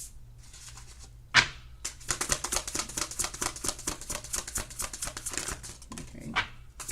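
Tarot cards handled one at a time for a Virgo reading, with soft rapid flicks and shuffling clicks in a quiet room and one sharper tap early on.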